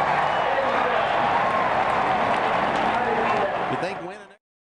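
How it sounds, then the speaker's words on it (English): Crowd at an Auto Club Speedway race roaring: a dense, loud wash of cheering and applause that holds steady before cutting off abruptly near the end. "Listen to the crowd."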